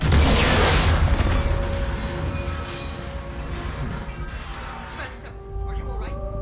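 A loud booming blast erupts at the start in Mass Effect 3, a heavy bomb explosion rumbling and decaying over several seconds amid game ambience and voices.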